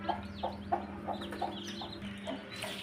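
A hen that has just hatched fifteen chicks clucks close by in a steady, repeated rhythm of short calls, with soft peeping and other small farmyard noises underneath.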